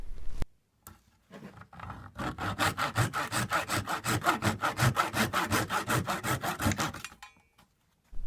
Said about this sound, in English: because we're putting this into solid wood, I'm going to cut off these dowels here